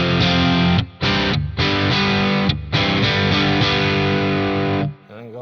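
An electric guitar played through a Nobels ODR-1 overdrive pedal, thick crunchy rock chords ringing loud and sustained, with brief gaps between strums before a final cutoff.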